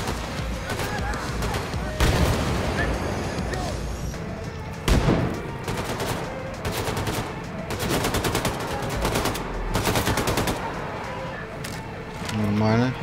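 A grenade blast and bursts of automatic gunfire in the Wolfenstein 2: The New Colossus video game, set aboard a ship. Two sharp explosions stand out among rapid, rattling volleys, with a voice talking over the combat.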